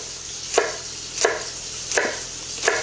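Knife slicing through fennel on a cutting board, four crisp evenly spaced cuts about two thirds of a second apart, close and clear over a faint steady background hum.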